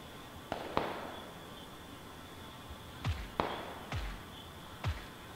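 Suppressed gunshots aimed at vehicle tires in a video game, a handful of sharp muffled thuds spaced irregularly over a steady hum, no talking.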